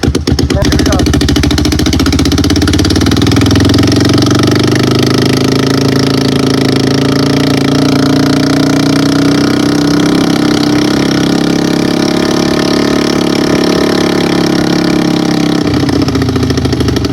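Motorcycle engine running steadily and loud throughout a test ride after a chain adjustment, a continuous close mechanical drone with a slight rise and fall in pitch.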